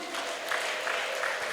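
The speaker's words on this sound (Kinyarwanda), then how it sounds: "Mukomere Imana amashyi." A church congregation claps and applauds during a sermon, a brief steady burst of many hands filling the room at moderate volume.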